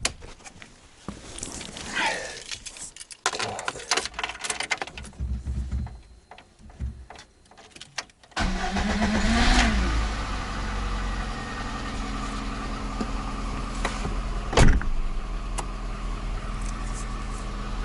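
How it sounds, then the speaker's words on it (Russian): A car with a newly installed battery cranks in irregular bursts with clatter and pauses, then its engine catches at about eight seconds and settles into a steady, close idle with a brief sharp knock later on. "завели мы машину"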